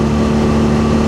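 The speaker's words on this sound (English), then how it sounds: "The sound of the engine" BMW R nineT Scrambler motorcycle engine running steadily, a constant loud low hum with no change in pitch, heard alone and close.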